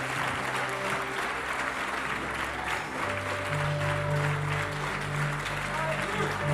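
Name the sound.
church congregation applauding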